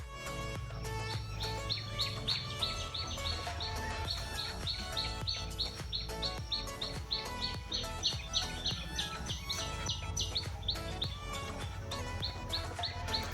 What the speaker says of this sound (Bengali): শুনতে পাচ্ছ চারিদিকে নিরিবিলি পাখির ডাক